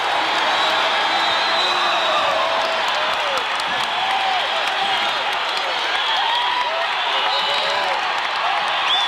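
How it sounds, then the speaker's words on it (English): An arena crowd at Hilton Coliseum claps and cheers steadily during an Iowa vs Iowa State college wrestling dual, a loud, continuous roar of applause and whoops throughout. "Crowd is on its feet at Hilton Coliseum."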